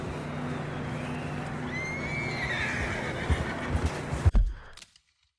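Horses neighing and galloping in Red Dead Redemption 2: a long whinny rides over rumbling hooves and movement, then a few heavy hoof thuds before the sound cuts to silence.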